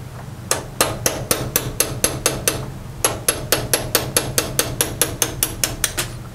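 A roll pin being driven out with a hammer on an old machine: a steady run of sharp metallic strikes at roughly three blows per second, a brief pause, then another even series, close and clear with no talking.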